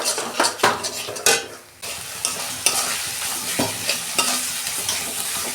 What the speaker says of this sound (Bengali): মশলাটা আমি 2 মিনিট কষতে নেবো